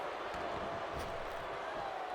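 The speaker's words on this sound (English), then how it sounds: "Boos from the crowd." Crowd booing in the WWE 2K22 wrestling video game, a dense, steady wash of arena noise running the full length without breaks.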